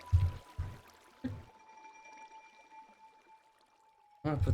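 Water pours from a freshly placed water source in Minecraft, a soft steady flowing hiss that runs quietly between a few thuds of block placing, with no voices.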